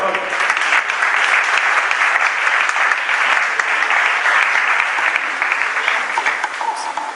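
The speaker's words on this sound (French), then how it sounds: "Let's give the Lord a hand right now" A church congregation applauds the Lord with steady, dense clapping throughout, loud and full, with a few voices mixed in.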